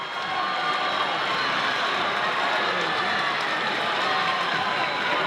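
Loud, steady roar of a crowd at a high school basketball game between Highlands and Laurel Highlands, a dense wash of cheering and voices filling the gym without pause.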